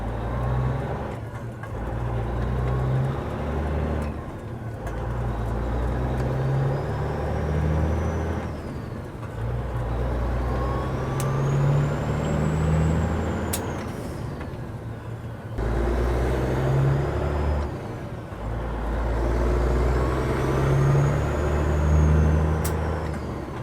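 A semi truck pulling a new trailer drives out of the city through Illinois traffic, its engine rumbling steadily close by, with several sharp air brake hisses breaking in at intervals.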